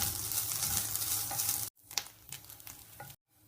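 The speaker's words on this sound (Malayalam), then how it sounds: "തേങ്ങ കുറച്ച് സവാള അരിഞ്ഞത് ചേർത്ത് നന്നായിട്ട് വറുത്തെടുക്കാം." Grated coconut and chopped onion fry in coconut oil for a roasted mushroom curry masala, with a steady sizzle and scraping stirs, interrupted by two brief silent cuts.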